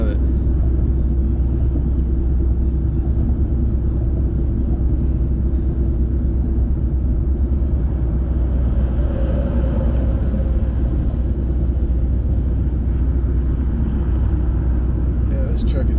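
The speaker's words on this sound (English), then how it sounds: "this truck is not in a hurry." A slow truck rolling along a road, its deep engine rumble and road noise holding steady and loud the whole time, with no clear change in pace.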